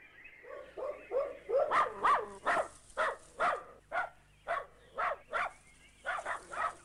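Dogs bark steadily in a near, rhythmic series of about a dozen loud barks with brief yips, in a rural Kenyan setting where warthogs live.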